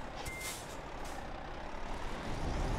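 An air brake hiss from a truck in Euro Truck Simulator 2 on a run between Dresden and Liège, sounding alongside steady engine drone and a brief reversing beep, with no talk over it.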